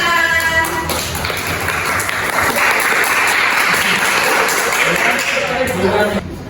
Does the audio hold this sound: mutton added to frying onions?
no